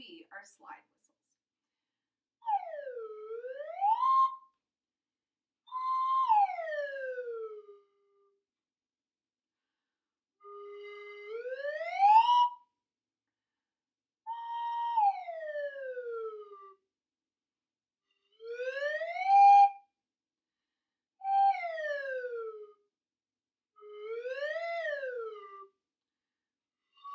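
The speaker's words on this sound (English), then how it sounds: "if the slide whistle does that, I want you to do the same thing with your voice" A slide whistle gliding up and down in smooth swoops, each sweep falling then rising or the reverse, repeated about eight times with silent gaps between, clear and moderately loud.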